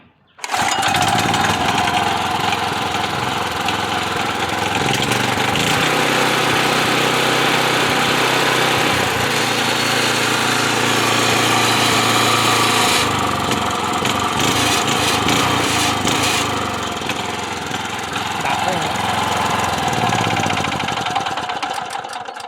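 A small petrol rototiller engine is pulled and starts, then runs loud and continuously with a rough, chugging idle that shifts pitch partway through.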